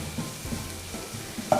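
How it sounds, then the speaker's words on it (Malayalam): Egg roast masala being sautéed gently in a pan: soft, close stirring scrapes over a low background sizzle, ending in a brief sharper clink. "മസാലയുടെ പച്ച മണമൊക്കെ മാറുന്ന വരെ ഒന്ന് പതുക്കെ സോട്ട് ചെയ്ത് കൊടുക്കാം"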